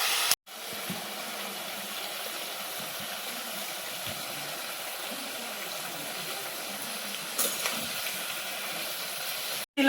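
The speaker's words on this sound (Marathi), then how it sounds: "तेलामध्ये घेवडा मी टाकलेला आहे." Broad beans (ghevda) sizzle in oil in a pan on a village wood-fired clay stove, a steady close hiss running unbroken for about nine seconds with a brief flare near the end.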